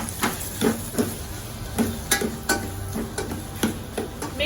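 Green chilies and tomatoes sizzle steadily in a pan over a medium flame, with repeated close scraping and tapping of a spoon as the mix is stirred.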